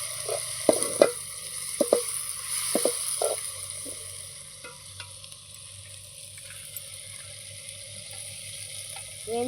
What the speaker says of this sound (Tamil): அதிலே வச்சு கிண்டுமா.